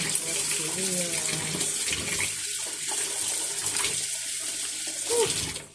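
Very hot water running steadily from a tap into a sink, a constant close splashing rush with small clinks of handling near the end.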